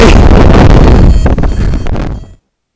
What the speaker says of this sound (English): It was a bit windy.